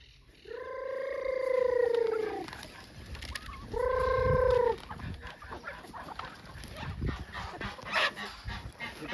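Turkeys on a small rural farm give two drawn-out, wavering calls close by, one long and one shorter, followed by scattered farmyard rustling and knocks.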